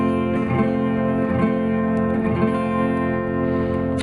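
Guitar strumming an F barre chord from a song, a steady ringing strum repeated several times with even rhythm, close and moderately loud, with no voice over it.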